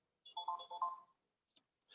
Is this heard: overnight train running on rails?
no